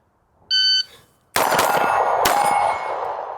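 A ported CZ P-10C pistol fires three sharp, loud shots in quick succession: two close together, then one more, all following a short electronic timer beep, with ringing decay between them.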